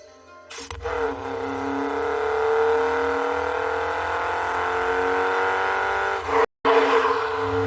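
Lancia Fulvia with its V4 engine out on the road, a loud, steady engine drone that builds after a sharp start and holds for several seconds before cutting off briefly near the end.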